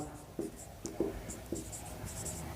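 A pen writes out a math solution on paper in a quiet room, giving a few soft scratching strokes and taps spread over a couple of seconds, close and faint.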